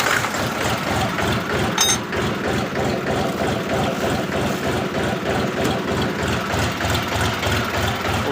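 A DTZ mini tractor engine runs close by with a loud, low, rhythmic diesel chug at idle, steady throughout and heard alone without talk.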